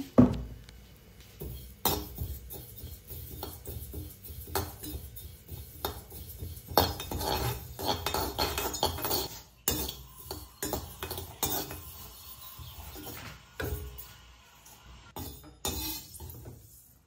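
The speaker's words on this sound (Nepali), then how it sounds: "त्यसैगरी तिल पनि भुट्नु होला।" Sesame seeds dry-roasting in a pan, stirred with a utensil, producing a steady stream of light scraping, clinking and rattling against the pan, close and moderately loud, with no voices.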